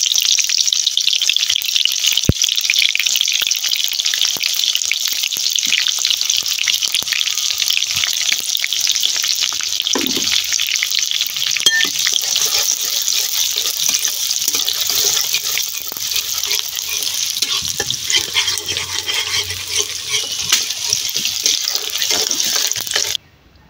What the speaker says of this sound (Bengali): এখন দিয়ে দিলাম কিছু পেঁয়াজ কুচি